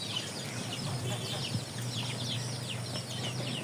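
Chickens clucking on a small farm, kept alongside Chinese ducks, geese and goats, with scattered overlapping calls over a steady outdoor background and faint voices in the distance.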